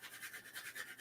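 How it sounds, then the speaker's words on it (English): A charcoal pencil is turned as it is sharpened, giving a quick run of close, rhythmic scraping strokes, soft and dry, with no one talking. "rotating the pencil as I sharpen it"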